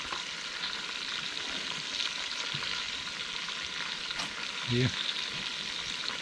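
Large chunks of goat meat and potatoes fry in a pan with a dense, steady sizzle heard up close, with a brief low knock near the end and a voice speaking a single word.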